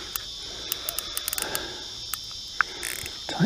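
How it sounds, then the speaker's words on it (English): A Matrix Horizon X 5000 fishing reel on a river gives line with its clutch tightened down hard as a big fish pulls, making a string of sharp ratchet clicks over a steady insect-like hiss, with no talking. "Oh, that spool's spinning and this clutch is tightened down fairly hard."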